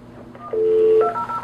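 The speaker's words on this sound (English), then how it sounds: "The call will go to the video phone if I press this button." A video door phone sounds its electronic call tone after the call button is pressed: a short steady beep that shifts to a higher tone, clear and close.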